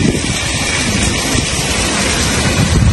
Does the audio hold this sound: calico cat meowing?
no